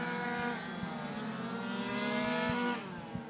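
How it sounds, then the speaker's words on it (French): 70cc racing scooters circling a track in a final race, high-pitched two-stroke engines whining and shifting pitch together at moderate distance, steady buzzing with no talk. "C'est superbe course, hein, ces scooters"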